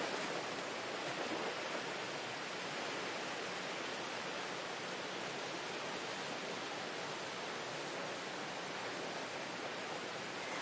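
Steady, even wash of water and waves at a beach in Fiji, a continuous broadband hiss with no distinct breaks, heard alone without voices.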